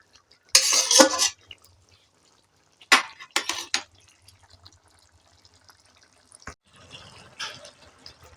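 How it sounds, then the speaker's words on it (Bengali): A pot of soybean and tomato curry being handled and lifted off the stove, with a few sharp metallic clanks and scrapes of cookware separated by quiet pauses, close and distinct. "এবার আমি তরকারিটা নাপিয়ে নেবো"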